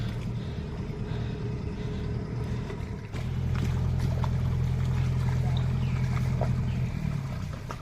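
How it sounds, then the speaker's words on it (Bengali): A fishing trawler's engine drones steadily in the Sundarbans waterways. The low hum grows noticeably louder partway through as the boat passes close by. "আর এদিকে মাছ ধরা ট্রলার ঢুকছে একটা।"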